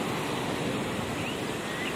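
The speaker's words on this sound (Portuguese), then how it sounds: "Ainda tá descendo alguma coisinha de água." Steady broadband rush of the Salgado river running full and still draining through a low stretch, a continuous even wash of flowing water with no talk over it.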